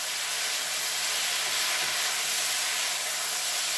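Beef and broccoli stir-frying in a hot wok with silicone utensils, a dense, steady hiss of sizzling oil, close and unbroken with no voices.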